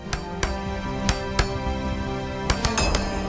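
A normal hammer strikes stone statues in Lord of the Rings: Return to Moria, giving a string of sharp, ringing clinks at an uneven pace, with a quick cluster of hits near the end.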